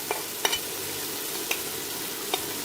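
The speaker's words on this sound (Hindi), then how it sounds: "मैं इसको भून रही हूँ।" Vegetables with peas sizzle and crackle as they are stir-fried in a pan, a soft steady fry with a few sharp clicks of a spoon against the pan.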